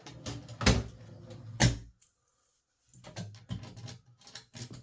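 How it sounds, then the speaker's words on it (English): Keys turn in the locks of a metal filing cabinet's drawers, producing close metallic clicks and rattles, two sharp louder clunks, a short silent gap, then more scraping and clicking as the next lock is worked. "it's time to test out these keys on the drawers"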